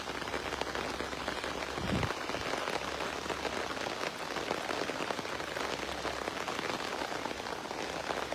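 Steady rain falls, a continuous dense patter on surfaces with no voices, heard close and moderately loud throughout.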